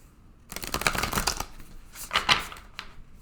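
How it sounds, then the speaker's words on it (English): A deck of tarot cards is shuffled up close, bursts of rapid papery riffling and flicking in two main runs with a short pause between, alone and fairly quiet. "I will take a few minutes now and shuffle in front of you so you'll be able to see that the cards are mixed up"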